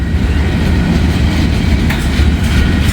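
A slow loaded coal train of gondolas rolls past close by, its wheels clacking rhythmically over rail joints with a loud, steady rumble and no voices.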